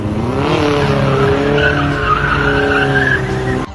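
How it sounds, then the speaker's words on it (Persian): Tires squeal loudly in a long, wavering skid as a rear-wheel-drive car drifts, the engine revving underneath, ending with a brief drop. "و به همین راحتی یه دریفت خیلی شیک و تمیز میزنید."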